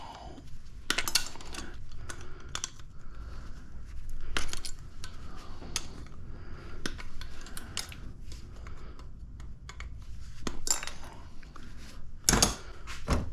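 Repeated sharp snips of cutters biting through brass and copper scrap fittings, a series of close, crisp clicks and metallic snaps spread irregularly over a quiet background, with a louder cut near the end.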